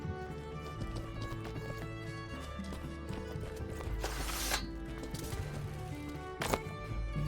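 Rhythmic horse hoofbeats clip-clop steadily in the video game Mortal Online 2, against a busy game soundscape with music and effects, a brief burst of noise cutting through midway.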